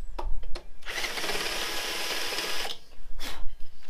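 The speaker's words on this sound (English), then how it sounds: "Just going to use the Christmas tree to just enlarge those holes" A step drill bit bores through a stock rear motorcycle mudguard, a loud whirring grind lasting about two seconds, framed by short knocks and handling noises before and after.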